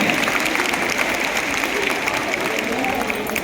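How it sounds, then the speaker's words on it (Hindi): An audience at a Delhi government anganwadi educational kit launch event applauding to welcome guests onto the stage, a steady, dense wash of clapping under a voice speaking over it. "और अब जोरदार तालियों से आइए स्वागत करें"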